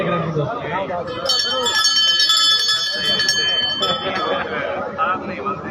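Bright, ringing temple bells chime continuously over a crowd of people talking and chattering nearby during a bidding event at a newly built Teja temple.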